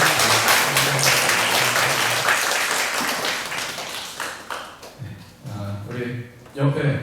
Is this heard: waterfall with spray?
no